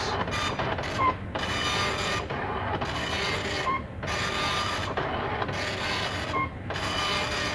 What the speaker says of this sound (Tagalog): So it will have the printer test.